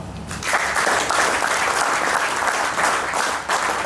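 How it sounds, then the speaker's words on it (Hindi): Audience at an offline training meeting breaks into steady, dense applause that swells after a brief start and holds at an even level to the end, with no speech over it. "आप लोग एक बार मुझे मेरे लिए ताली बजाओ"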